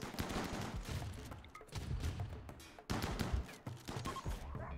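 Rapid volleys of gunfire in a RimWorld colony battle rattle almost without pause, with dense overlapping shots and short bursts repeating throughout at steady loudness.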